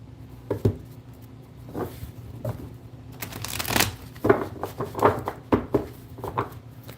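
Tarot cards being shuffled by hand, a series of crisp riffling bursts that grow busier toward the end, close and fairly quiet over a faint steady hum, with no talking.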